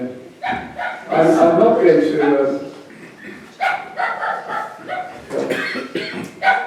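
A dog gives several short barks and yips indoors, close by, mixed in among a person's speech throughout.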